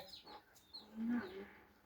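A chicken gives soft, faint clucks, a few short calls heard against a quiet outdoor background.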